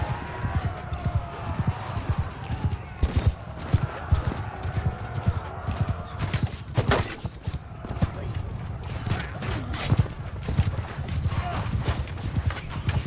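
Horse hooves gallop in a Mount & Blade II Bannerlord battle: a fast, continuous clip-clop with scattered sharp impacts, louder thuds and an occasional whinny.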